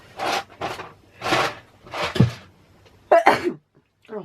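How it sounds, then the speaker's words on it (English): A woman sneezes while crafting a paper card at a desk, with a few short bursts of breath and movement, one sharper sneeze-like outburst near the end, fairly close and alone without talk. "excuse me, I'm still sneezing"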